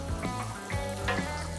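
Butter and garlic sizzle steadily in a frying pan, a dense, even frying hiss close up, made while cooking trout fillet with lemon sauce.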